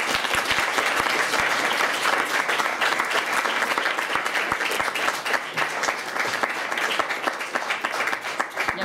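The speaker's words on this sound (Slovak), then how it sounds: "veľký potlesk" A crowd at a race awards event gives the women's over-40 category winners loud, continuous applause, thick overlapping clapping with sharp individual claps standing out near the front.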